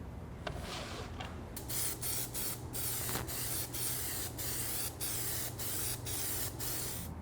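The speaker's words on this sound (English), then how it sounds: "I can spray all the sides and let it dry overnight." Aerosol can spraying Plastidip rubber coating onto a Nomai mask, a steady close hiss broken into about a dozen short bursts with brief pauses between them, no talking.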